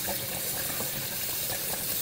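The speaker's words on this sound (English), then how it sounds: "We're going to put them in some cold water here and rinse these off." Running cold water splashing steadily in a sink while bluegill fillets are rinsed, a continuous broadband rush with no voice over it.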